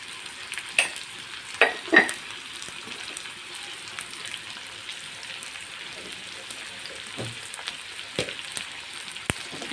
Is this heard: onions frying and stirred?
yes